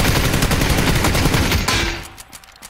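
Rapid gunfire from a first-person shooter video game, a dense run of shots for about two seconds that cuts off abruptly, leaving brief quieter game noise.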